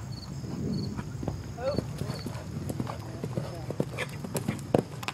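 Rhythmic clip-clop of a mare's hooves under a rider, moving at a steady pace, with scattered voices and a brief whinny-like sound in the background.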